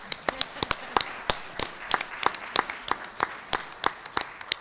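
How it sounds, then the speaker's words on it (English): A small audience at a county candidates forum applauding, sparse, distinct claps in an irregular rhythm, fairly close and thin rather than a roaring crowd, lasting a few seconds. "give the candidates a round of applause even before we begin"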